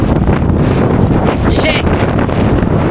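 Strong Amihan wind at sea buffets the microphone with loud, continuous rumbling gusts aboard a boat, with a brief voice rising above it.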